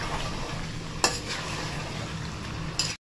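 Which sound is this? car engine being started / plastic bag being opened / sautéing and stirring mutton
sautéing and stirring mutton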